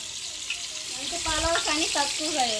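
Onions fry in a pan at a home cooking gathering, a hissing sizzle with watery bubbling, while people talk over it.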